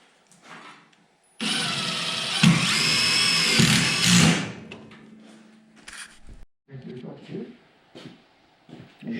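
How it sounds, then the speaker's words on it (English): Power drill boring holes in a car firewall on a 1931 Model A, one loud close burst of a few seconds with the motor whining, then quiet talk and small handling noises. "we'll drill holes in those and use for plug welding"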